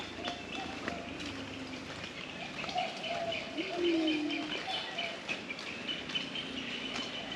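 Birds calling continuously in the background near Darwin, Northern Territory, with cooing and chirps over a steady outdoor ambience; scattered tweets come and go.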